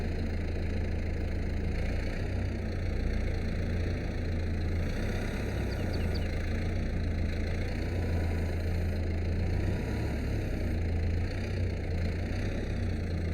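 A Kubota tractor engine idles in Farming Simulator 22 at a steady, even level, its low hum continuous and unchanging the whole time with no talking over it.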